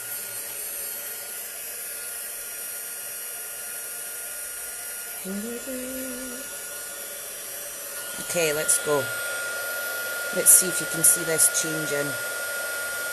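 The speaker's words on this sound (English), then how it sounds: "Let me grab my heat gun, which is my branded one." A branded craft heat gun blows hot air with a steady, loud whooshing hum throughout, while someone talks briefly over it.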